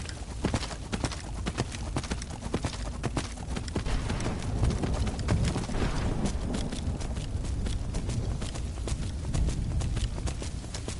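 Fast, steady hoofbeats clatter continuously as a horse trots or gallops in Skyrim VR, loud and close throughout with a rushing background.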